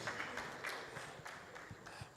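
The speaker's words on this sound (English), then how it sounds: "Please let's give another round of applause to our most distinguished panelists" Audience at a 2024 NIPetE annual conference applauding the panelists, a faint, steady patter of clapping from a room of people, continuous throughout.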